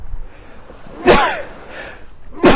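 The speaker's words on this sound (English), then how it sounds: "I'm going to sneeze." A sharp sneeze bursts out after a quiet breath, followed by a softer exhale and a second short burst at the end.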